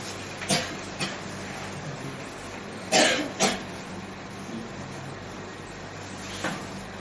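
Someone coughing in a classroom during a lecture, a few separate coughs with a close double cough in the middle and a fainter one near the end, over quiet room hum.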